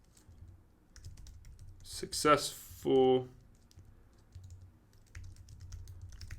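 Faint, soft clicking of fingers typing on a computer keyboard, quiet and scattered throughout, broken by a short burst of speech in the middle.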